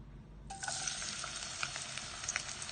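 Onions dropped into warm mustard oil start a sudden, close sizzle that carries on as a steady, bright frying hiss with small pops and crackles scattered throughout, and no voices.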